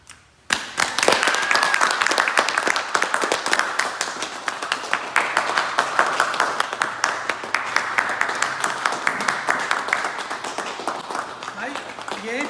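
A crowd applauds and claps steadily for a new car delivery, a dense, sustained patter of many hands that stays loud for several seconds, with voices mixed in.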